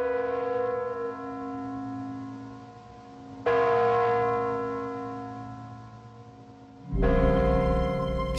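Kremlin clock chimes ringing out in sustained, resonant bell tones, with three distinct strikes whose long decays overlap. Each toll is loud and full and rings clearly with no voices.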